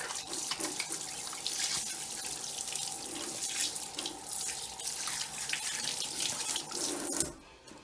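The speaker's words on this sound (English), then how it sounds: "We're gonna wash our hands." Water from a kitchen tap runs steadily into a sink while hands are washed before handling raw chicken, a close, continuous splashing rush with small shifts as the hands move under the stream.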